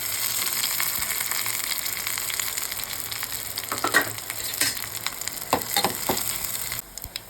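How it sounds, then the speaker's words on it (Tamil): Mustard seeds, onion and dried red chili fry in hot oil, giving a dense, crackling sizzle with a few sharper pops and stirring scrapes toward the end, and no talking. "எண்ணெய் சூடாயிடுச்சு. கடுகு போட்டுக்கலாம். வெங்காயம், வத்தல் மிளகு,"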